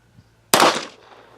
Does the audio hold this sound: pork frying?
no